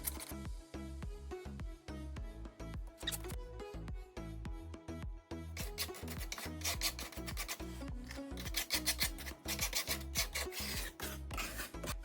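A small putty knife scrapes and rubs Venetian plaster into crevices on a plastered range hood with continuous rhythmic back-and-forth rasping strokes, close and fairly quiet, with no talking.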